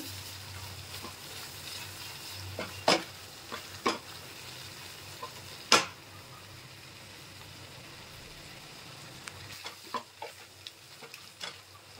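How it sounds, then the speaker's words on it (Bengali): Onions frying in a pan with a little turmeric, a soft steady sizzle under occasional sharp scrapes and clinks of stirring, several distinct strokes spread across the stretch, close and moderately quiet, no talking. "দেখুন পেঁয়াজটা কত সুন্দর ফ্রাই হয়ে গেছে।"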